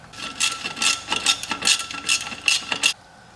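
Ratchet wrench tightening the oil drain bolt on a Raptor 700 ATV during an oil change, a run of close, bright clicking bursts in quick rhythm that stop abruptly, with no talking.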